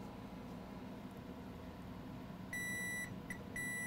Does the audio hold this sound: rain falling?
no